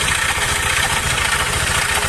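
A Honda Vario 150 scooter engine runs rough and harsh at idle, recorded up close as a steady, loud, grinding drone.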